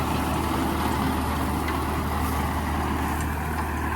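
Swaraj 969 tractor running with a 9-foot rotavator in a field, a steady, loud, low engine drone with a constant rumbling hum and no pauses.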